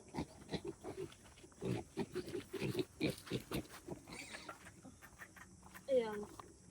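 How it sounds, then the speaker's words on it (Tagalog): Pigs eating feed softened in water, giving repeated close grunts and snuffling noises, ending with a short, sharp squeal. "papakainin ko na lang yung baboy"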